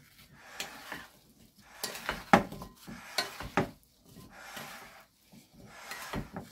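Sliced apples for a pie filling are tossed with allspice and other spices in a bowl, a soft, close scrape and clatter in a few uneven bursts separated by quiet gaps.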